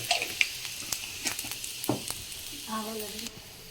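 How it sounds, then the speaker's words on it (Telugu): Dried red chilli seeds and other tempering seeds crackle in hot oil in a kadai, a close, lively sizzle with sharp pops scattered throughout and a brief hum of voice near the end. "ఆయిల్ అయితే హీట్ అయింది పోపు గింజలు వేసేసుకున్నాము"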